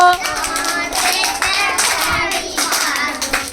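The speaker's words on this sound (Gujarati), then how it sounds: "કેતા તાળી પાડો." Children clap their hands together in a counting game, a busy burst of many quick, overlapping claps from a group nearby, with a voice faintly heard among them.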